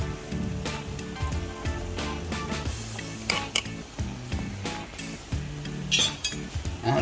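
Sautéed bamboo shoots with pork and chili being stirred in a pan, with a soft continuous sizzle under scraping and clinking of a utensil against the metal, steady and close at moderate volume.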